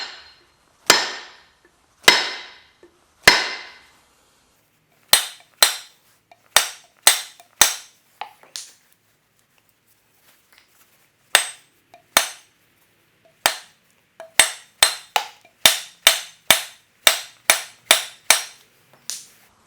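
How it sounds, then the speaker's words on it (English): A hammer taps a tomahawk head and handle into place with many crisp, sharp strikes, first spaced apart, then in quicker irregular bursts, loud and close with no voices. "And let's give it a tap with the hammer."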